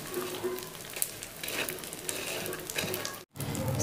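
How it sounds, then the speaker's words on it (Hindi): Panjiri ingredients fry in a pan over low heat while being stirred, giving a steady close sizzle with soft scraping and a brief pause near the end. "इसको हम हिलाएंगे और हल्की आंच पे इसको फ्राई करना है"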